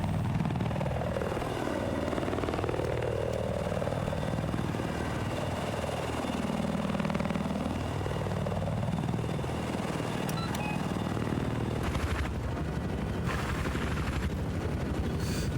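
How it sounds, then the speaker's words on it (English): A helicopter flies in a 16v16 multiplayer war game match, its rotor drone rising and falling in pitch as it moves, steady and fairly loud, with sharp clicks and bursts near the end. "Harper's being one of Boss's main chopper pilots"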